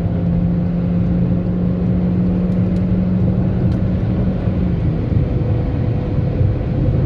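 Car engine at road speed, heard from inside a Chevrolet Cruze 1.4 turbo during a run against a Jetta 2.0 Comfortline: a steady, loud low rumble and whir with a slight rise in pitch, no talk.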